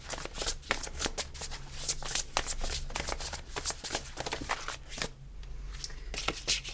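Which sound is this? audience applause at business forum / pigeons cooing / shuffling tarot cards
shuffling tarot cards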